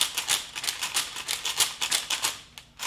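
Rapid rattling clatter of small plastic pieces shaken in a cup, coming in quick bursts of clicks for about three seconds, fairly close.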